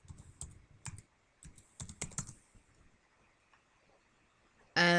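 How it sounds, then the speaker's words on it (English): Fast bursts of typing on a computer keyboard, close and crisp, with short pauses between clusters of keystrokes and a loud burst of noise cutting in at the very end; nobody speaks. "just type in port forward"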